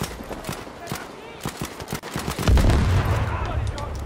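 Rapid gunfire bursts and heavy explosive booms from the World War II shooter Battlefield V, dense and loud, with a louder rumbling barrage in the second half and a voice speaking over the battle.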